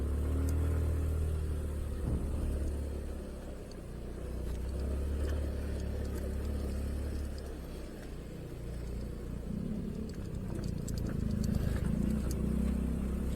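A car climbing a steep, narrow one-lane road toward the Lembah Pasir Sumbul campground, its engine giving a steady loud rumble that swells and eases over several seconds, with no voices.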